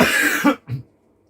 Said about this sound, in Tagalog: Inuubo ako dito.